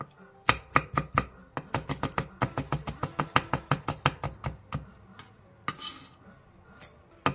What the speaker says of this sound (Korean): 대파 3분의 1개, 청양고추 1개, 청양 홍고추 1개를 길게 십자 모양으로 칼집을 댄 뒤 쫑쫑 썰어주세요.